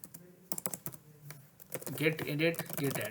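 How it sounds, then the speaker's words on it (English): Rapid keystrokes on a computer keyboard while git commands are entered on a Windows PC, clustered bursts of close clicks with someone talking over part of the typing. "and then I will type this command, git commit m."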